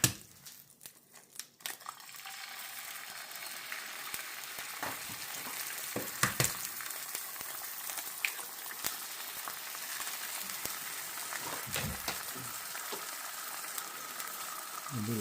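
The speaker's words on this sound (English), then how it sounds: "Put a little bit of butter in there. I'm going to fry up a couple of eggs." A couple of eggs frying in butter in a pan, a steady soft sizzle with scattered pops and crackles that starts after a brief quiet moment and continues alone.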